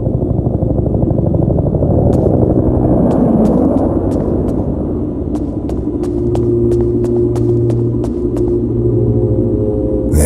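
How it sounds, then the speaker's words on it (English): A helicopter arrives in a video game, its low rotor rumble thick and steady across the scene, with sharp metallic ticks and clicks sounding on top and a sustained drone settling in near the end. "Is that the evac chopper?"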